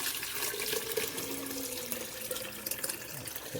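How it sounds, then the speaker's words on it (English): Soursop tea pours into a container over other herbal tea ingredients, a steady, splashing liquid stream that gurgles continuously at close range, fairly quiet, with no one talking. "now we're going to pour the soursop tea with the rest of the ingredients"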